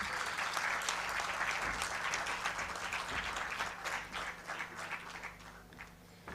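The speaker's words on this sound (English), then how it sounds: "A big round of applause for the man, please." Steady applause from an audience at an architecture and interior design awards ceremony in Goa, honoring an award winner; dense, continuous clapping that gradually thins toward the end, with no talk over it.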